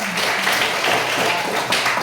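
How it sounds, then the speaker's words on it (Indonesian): A room full of people applauding steadily, dense and continuous, with no talking. "tepuk tangan"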